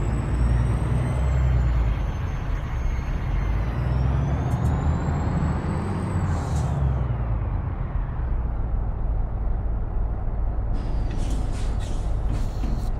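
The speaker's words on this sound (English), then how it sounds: "J-brake sounds good." A heavy truck's engine brake in American Truck Simulator, a loud, steady, dense rumble that holds throughout, with a brief hiss partway through and faint chirps near the end.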